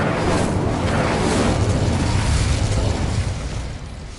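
The Incendio fire spell cast in a Hogwarts wizarding video game, a loud roaring burst of flame that holds steady before fading slightly at the end, with no talking.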